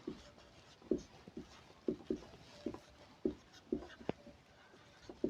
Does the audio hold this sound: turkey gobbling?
no